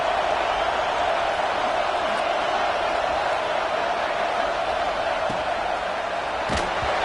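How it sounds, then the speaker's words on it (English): Stadium crowd at a Clemson vs Texas football game, a loud, dense, continuous roar filling the whole stretch, with a couple of brief thuds near the end. "This crowd, full throat, splitting the eardrums and letting them know it's going to be a long day"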